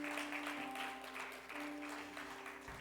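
A church congregation applauds for Jesus, a moderately distant, even roll of many hands clapping with a faint sustained tone beneath it.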